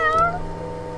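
A cat meows once in the video game Fausts Alptraum, a clear, close, tonal call that falls in pitch and fades out.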